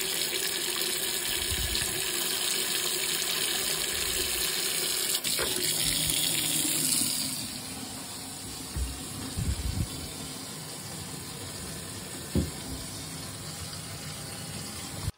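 Water rushes from a newly installed boiling-water tap in a steady loud stream, then drops to a quieter flow with a few clunks and knocks.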